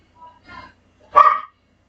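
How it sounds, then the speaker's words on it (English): A dog gives two faint, short yips, then one louder, sharper bark, close by, with no talking. "How dare this dog keep barking?"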